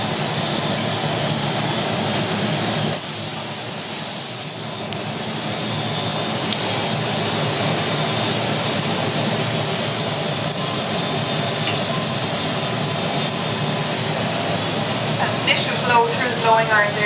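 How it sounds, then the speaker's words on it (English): Hot wood-fed flames roar steadily in a glassblowing furnace at a crystal workshop in Ireland, a loud continuous rushing that fills the scene with a faint murmur of voices underneath. "Quite hot flames that come up from the wood there."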